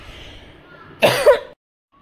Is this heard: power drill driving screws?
no